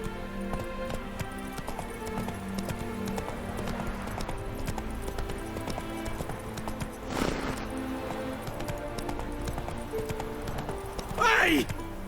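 Roach the horse in Witcher 3 gallops with a rapid, continuous clip-clop of hooves, near and steady, ending in a brief whinny, with occasional speech over it.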